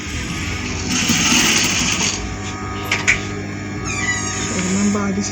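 A sewing machine stitches an African men's top in short whirring runs, with mechanical clicks and a steady hum beneath, fairly close by.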